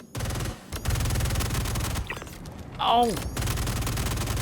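The F55 gun in the video game Star Citizen fires in rapid, sustained automatic bursts, loud and continuous with a brief break midway, and a short exclamation from a man over the shooting.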